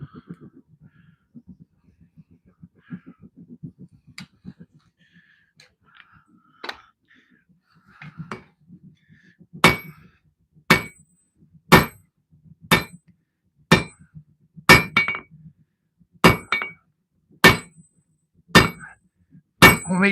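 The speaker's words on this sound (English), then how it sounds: "Homemade power hammer." Homemade power hammer forging knife steel, striking about eleven loud, evenly spaced metallic blows in the second half after a quieter stretch of low rumbling and scattered small clinks.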